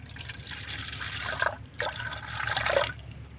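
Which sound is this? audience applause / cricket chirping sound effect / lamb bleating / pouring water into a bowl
pouring water into a bowl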